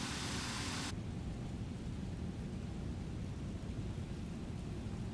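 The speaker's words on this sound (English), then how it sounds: "Still hear the rain, but I'm not getting the rain effect on the windscreen." Steady rain on an airliner on a hand-flown approach into Melbourne in a flight simulator game, a constant broadband hiss with low rumble, a brighter burst of noise for the first second, no talk.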